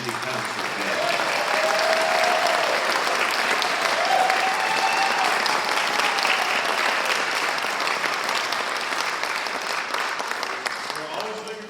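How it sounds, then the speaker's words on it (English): An audience at a Christmas concert gives the community concert band a warm round of applause that holds steady and full for the whole stretch, with some crowd voices mixed into the clapping. "We're going to give them a big round of applause."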